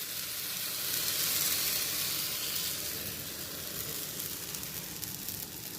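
Kai pola batter fries in a pan, giving off a steady, dense sizzle that swells slightly early on and then settles into an even crackling hiss.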